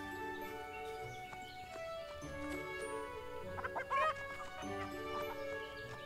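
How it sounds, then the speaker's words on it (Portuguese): Chickens cluck in the farming video game Everdream Valley, a few short clucks rising out of a soft, steady music bed. "não é nem um pouco óbvio onde as galinhas estão"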